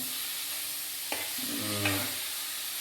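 Food frying in coconut oil is stirred in a pan, with a brief scrape and a soft, steady sizzle and no talking.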